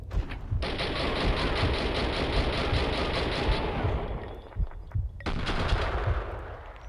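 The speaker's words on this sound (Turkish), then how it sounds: "adamlar mermi sıkıyor ya." Rapid automatic gunfire from the video game Max Payne 2 rattles in sustained bursts. A long loud stream is followed by a brief pause and then another burst, close and dense.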